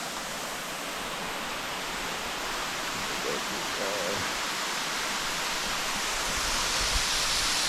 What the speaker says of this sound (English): Oh man, this is a gnarly waterfall.